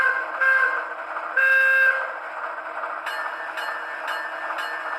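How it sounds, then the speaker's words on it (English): A model train's air whistle from a Blunami sound decoder sounds in a few short toots, then settles into a rhythmic chuffing pattern with repeating hissy bursts. "We could do the air whistle."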